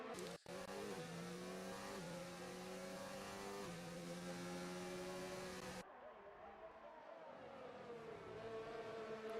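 Race cars in the F1 2019 video game run through Sector 3 at Monaco, with high engine whines climbing and falling through gear changes, loud and continuous, one car's note cutting off partway and a lower drone carrying on.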